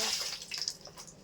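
Water splashing and trickling as fruit is washed in a kitchen, a soft, close, continuous running sound with small drips.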